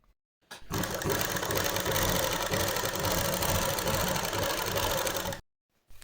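A sewing machine runs without a break for about five seconds while stitching a folded belt, a close, loud, rapid mechanical whirr. It starts and stops abruptly, with near silence before and after.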